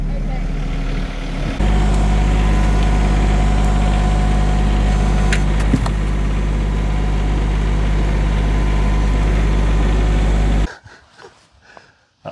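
A tractor engine idles close by in a steady, loud, low rumbling drone for about ten seconds, then cuts out, leaving near quiet.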